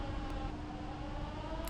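Evacuation siren from a workplace safety video, a steady droning wail held at low level throughout the short stretch, with no voices.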